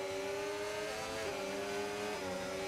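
A McLaren racing car in a video game race on a wet track, its engine a steady, high, tonal drone that rises and falls slightly with a few small pitch shifts as it holds speed. No voices are heard.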